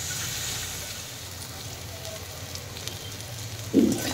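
Potato and radish vegetables fry in a pan over a medium gas flame, giving a steady close sizzle and crackle that continues throughout, with a slightly louder spatter near the end.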